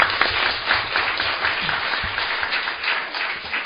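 Sustained audience applause fills a hall at a Korean political party debate forum on reform and the party convention, steady dense clapping from a crowd with a few faint voices underneath.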